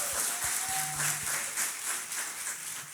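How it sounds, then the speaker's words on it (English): An audience at a speaking event for a champion boxer gives a round of applause: dense, continuous clapping that swells and eases, close and fairly loud, with no voices over it. "please give her a round of applause"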